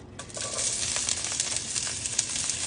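Steady, crackling sizzle of onion frying in a hot pan, with bright popping and spitting throughout, close and fairly loud.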